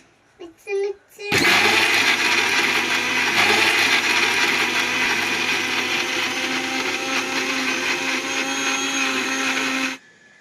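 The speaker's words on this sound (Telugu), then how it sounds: "ఈ విధంగా అయితే మిక్సీ పెట్టేసానండి మెత్తగా" A kitchen mixer grinder whirs loudly and steadily while grinding masala paste with ginger, starting after a few brief knocks and running continuously for about nine seconds before stopping.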